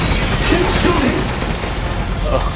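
Gunfire rings out during a fight in the horror game Resident Evil Village, as a dense continuous volley of shots runs through the whole stretch amid game noise, with voices briefly audible.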